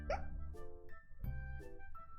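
Several small hiccups from a character in the game Snail Story: Love Edition, short, distinct and spaced apart, close and fairly quiet, with no talk over them.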